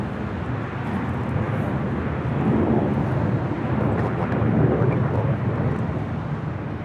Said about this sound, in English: This next arrival here on the north side is Alaska Airlines Flight 5 coming in from Washington National on a 737-800